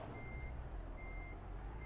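Reversing beeps from a truck in a mobile truck simulator game play as a faint, steady high tone over a constant low engine rumble.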